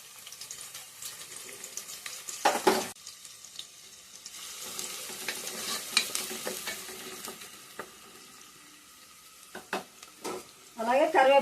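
Onions and green chillies tossed into hot oil for a mutton paya curry, giving a steady sizzle with spatula scrapes and stirring, bursts of louder frying and a brief splashing at the end.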